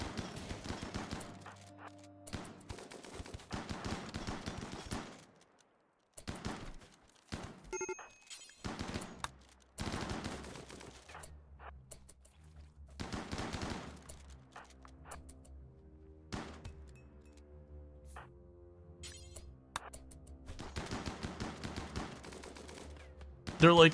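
Shotgun fire in the RimWorld video game comes in bursts of sharp, rapid blasts separated by quiet gaps, heavy at the start and again near the end, with someone talking between the shots.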